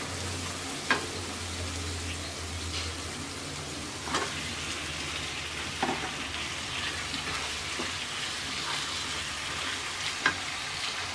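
Baim (spiny eel) fish slides into spice paste frying in a pan, setting off a steady close sizzle broken by a few sharp pops and crackles, with no voices.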